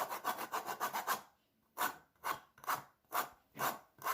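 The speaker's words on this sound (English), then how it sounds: "one zest of an orange" An orange is zested on a grater with close, soft rasping strokes. A quick run of about seven rapid scrapes comes first, then a pause, then five slower, evenly spaced strokes.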